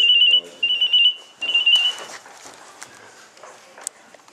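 A telephone rings in a radio studio during a call-in contest, sounding as several short electronic trilling bursts up front that fade into quieter clatter and faint background sounds.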